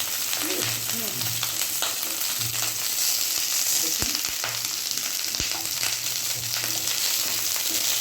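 Pieces of cauliflower sizzling in hot oil in a pan at home, a continuous close crackle with a few sharp clicks as pieces are turned and faint low murmuring in the background.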